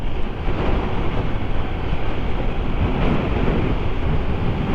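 Strong wind buffets the microphone on a slow-moving motorcycle in a steady, dense roar, loud and continuous with no voices.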